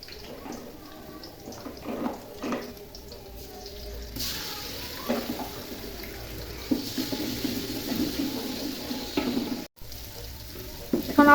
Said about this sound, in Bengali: এখন আদা রসুন দিয়ে ভেজে নেব একটু।